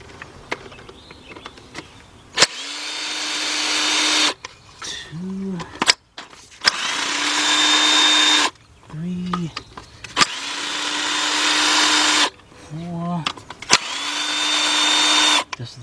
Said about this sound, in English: I'm gonna use my cordless gun with my 6-inch, 1/4-inch drive extension and my deep 10mm socket